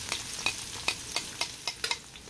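Onion and garlic frying in a pan, with regular scraping strokes of a spatula against the pan roughly every third of a second over a low, steady sizzle.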